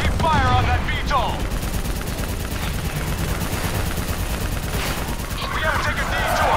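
Steady automatic gunfire in Call of Duty: Black Ops III during a tank escape, rapid loud bursts rattling on throughout with explosions underneath, while soldiers shout over it.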